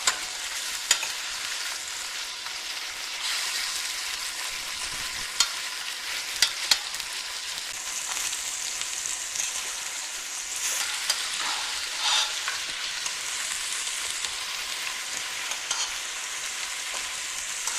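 Turkey meat browning in a pan, a continuous bright sizzle and crackle with occasional small clicks of the utensil, steady and fairly close, no voices.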